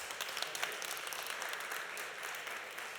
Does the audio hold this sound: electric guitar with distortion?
no